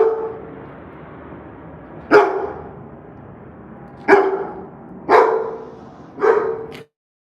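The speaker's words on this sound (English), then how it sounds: "Big old dog." A big dog barks four times with pauses of about a second or two between the loud barks, in a residential neighborhood during a delivery driver's drop-off.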